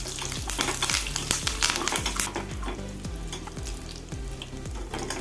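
Curry leaves crackle and sizzle in hot oil for a ridge gourd olan, a dense close spitting that starts loud and settles into steady frying, with rhythmic low clanks from a pan or spoon running underneath.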